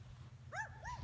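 Neighbours' dogs barking at a distance across tree-lined yards, two short faint yelps or barks in quick succession with no talk.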